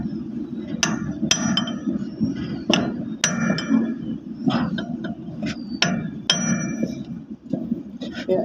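Metal hammer blows ring out on the boom hoist motor of a Hitachi Sumitomo 250-ton crane during removal, with about a dozen irregular, sharp clanking strikes, close and loud, over a low background rumble.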